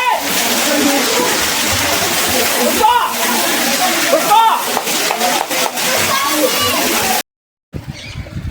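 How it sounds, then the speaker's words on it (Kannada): Water pours from the mouth of a stone Nandi statue into a temple pond at Yaganti Temple in Andhra Pradesh, making a loud, steady splashing and sloshing that cuts out briefly near the end. "ನಂದಿ ಬಾಯಿಂದ ನೀರು ಬರ್ತಾ ಇದೆ"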